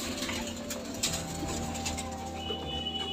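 Pigeons of an old-generation pure breed coo softly in a loft, a low, steady cooing that runs continuously. A few faint wing flutters and small clicks sound alongside, with no talking.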